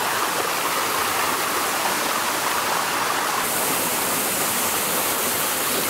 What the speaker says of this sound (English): we've got a waterfall right near our hotel room